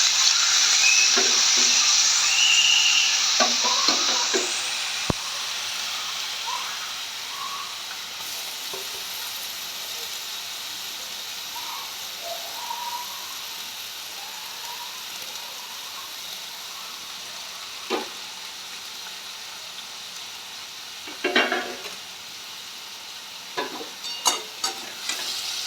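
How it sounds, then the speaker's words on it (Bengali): Seasoned banana stem goes into hot oil in a traditional Bengali vegetarian dish, giving a loud initial hiss that settles into a softer sizzle with scattered stirring scrapes and clinks. "এবার তেলের মধ্যে যে মেখে রাখা যে থোড়টা সেটা ছেড়ে দেবো।"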